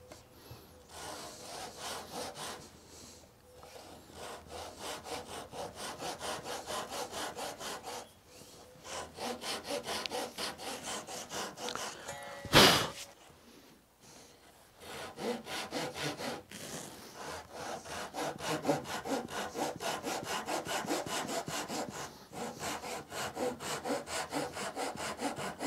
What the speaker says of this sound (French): je vais reprendre la même technique que j'ai utilisée pour les alaises, à savoir la scie, tout simplement à la main